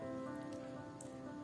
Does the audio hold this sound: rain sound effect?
yes